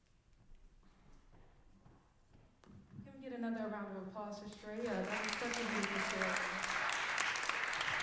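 An audience claps for a speaker named Shreya after her story. A voice talks first over quiet room noise, then the clapping swells and continues as a dense, steady wash.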